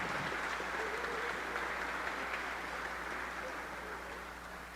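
A crowd at a ceremony honoring mayor Fabiano Horta gives a round of applause, heard as a faint, distant wash of hand claps that stays steady and slowly tapers off toward the end.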